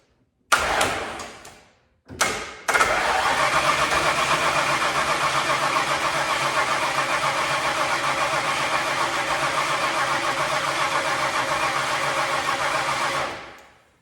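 An old Ford Bronco engine cranks in two short bursts, then catches and runs loud and steady for about ten seconds before cutting out.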